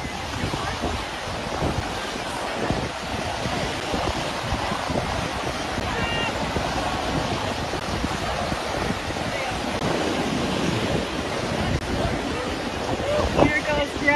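Waves wash against the Dead Sea shore under strong wind buffeting, a steady rushing surf with occasional louder swells while voices talk faintly in the background.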